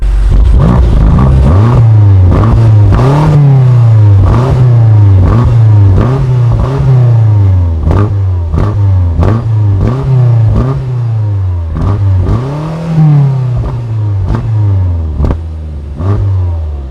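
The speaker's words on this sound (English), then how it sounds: "So let's give it a rev, give it a listen" A BMW M5 Competition engine revs hard and close several times in a row. Each rise and drop in pitch comes in a regular pattern, with mechanical clatter under the roar. No voice is heard.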